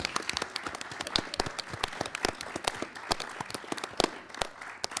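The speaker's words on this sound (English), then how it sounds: "Let's have one more big round of applause for all of our amazing competitors." A small audience at a middle school quiz show semifinal claps for the competitors, producing fairly faint applause made of distinct individual claps at an uneven rhythm.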